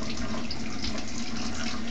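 Water pours steadily from a shower during a child's bath, a loud, even rushing hiss that runs unbroken throughout.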